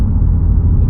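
Lexus IS350 fitted with an Invidia catback exhaust while driving, a deep, steady low rumble from the engine and exhaust, close and loud for about a second.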